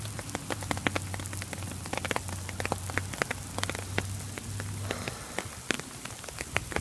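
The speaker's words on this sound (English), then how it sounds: "it's hailing right now" Hail pellets ticking and pattering sharply on surfaces downtown, dense irregular clicks close by, with a low steady hum underneath for most of the stretch.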